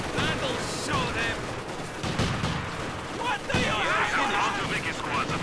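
Enemy machine guns keep up sustained fire in the World War II strategy game Company of Heroes 2, with dense rattling bursts and impacts over a busy battle bed, voices talking over it throughout.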